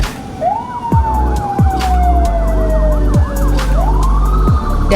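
Fire truck siren wailing loudly and close during mass disinfectant spraying in Padang Panjang, a steady rising-and-falling tone with short horn-like blasts and traffic noise beneath.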